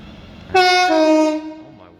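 Class 350 electric multiple units 350108 and 350102 depart Bletchley on the West Coast Main Line toward London Euston, with a single loud, near, harmonic horn blast lasting about a second before fading back to quiet rail ambience.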